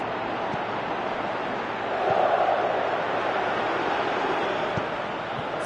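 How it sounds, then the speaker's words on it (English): A large stadium crowd in a football video game roars in a steady broad wash, swelling briefly midway as fans urge a shot, with no voices standing out. "Crowd calling for him to shoot."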